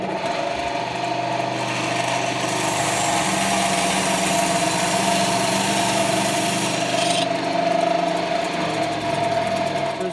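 A bandsaw runs while cutting wood, giving a loud, steady, high whining drone with a broad hiss that stays even for the whole stretch, close by and without speech.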